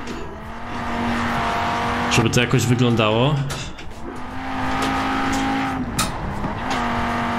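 An Audi RS2 quattro with all-wheel drive revs and slides through a drift in Forza Horizon 4, its engine droning near and rising in pitch through a hard acceleration, with tire squeal and someone talking over it.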